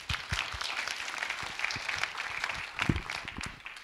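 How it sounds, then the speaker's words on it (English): Conference crowd at a Rails Israel event breaking into a round of applause, dense steady clapping with a few louder individual claps, moderately close and without talk. "So give Erik a round of applause."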